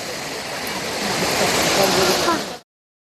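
Water rushing down Barachukki Falls makes a steady, broad roar that swells slightly, then cuts off abruptly near the end.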